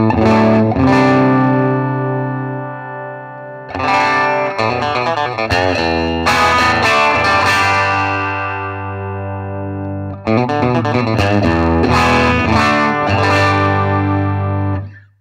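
Ibanez Tube Screamer TSA5TVR tube guitar amplifier with 8-inch Gibson speaker, sounding out a loud, overdriven chord-and-riff passage: held chords broken by quick strummed bursts, repeated three times, ending abruptly, with no voices.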